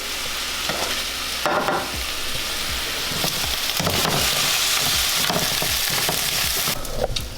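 Ground turkey seasoned with Montreal seasoning and taco seasoning fries in a pan, giving a steady, close, crackling sizzle with repeated scraping and stirring strokes throughout, and no voices.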